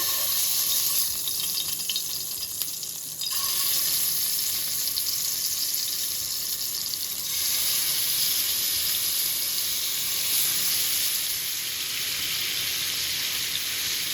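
Chicken sizzles in hot oil in a pan, a steady crackling hiss that stays fairly soft and even throughout, with no talking.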